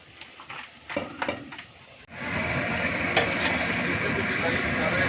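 Puris for halwa puri fry in extra hot oil, a few soft clatters giving way to a sudden, steady, close bubbling sizzle that continues to the end.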